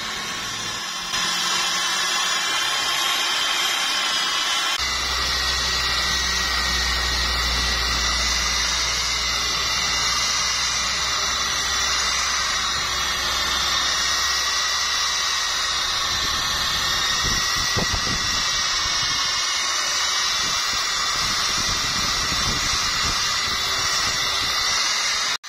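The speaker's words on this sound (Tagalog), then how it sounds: "Dahan-dahan lang sa pagbabaping, mga paps, kasi baka masubrahan." A rotary buffer polishes a car headlight lens with rubbing compound, giving a steady, loud whining hiss that runs unbroken throughout, with a low rumble in the opening seconds.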